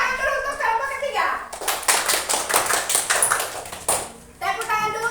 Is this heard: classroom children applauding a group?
yes